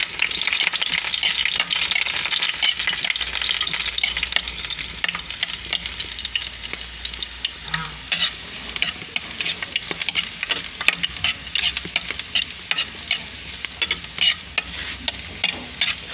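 Garlic and shrimp paste (alamang) sizzle and crackle steadily in a hot pan, with frequent scraping stirs punctuating the continuous frying noise up close.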